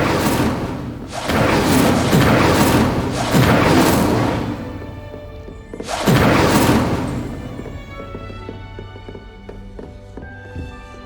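Incendio fire spell bursts from a wand in Hogwarts Legacy: three loud, close whooshing blasts with heavy thumps, spaced a couple of seconds apart, then fading into a quieter tonal ringing tail.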